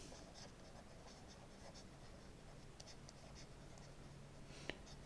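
Chalk or marker scratching across a board while a geometry proof is written out, faint and steady strokes under a quiet room hiss, no speech.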